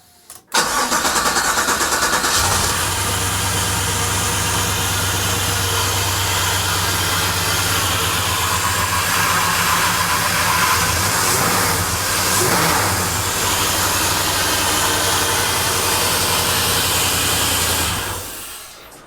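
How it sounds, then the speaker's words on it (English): A Chevrolet El Camino lowrider cranks with a brief starter burst, catches, and settles into a steady, loud, close idle that holds for around fifteen seconds before cutting off, with no talk over it. "Engine runs. It actually sounds pretty good."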